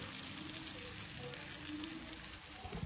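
Fried-onion paste masala cooks in oil for a chicken curry, giving a faint, steady hiss and crackle that holds evenly throughout, with no voices.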